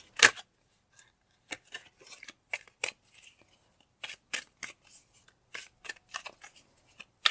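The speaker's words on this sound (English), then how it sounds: "So I'm going to pull more cards." Tarot cards drawn one after another from a deck, giving a run of sharp, close papery snaps and slides with short pauses between them, heard alone in a quiet room.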